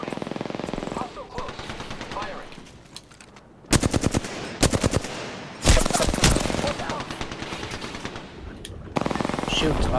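Machine gun fire in a battle royale shooter game, loud rapid automatic bursts repeating in several strings, with quieter stretches between them and faint voices at times.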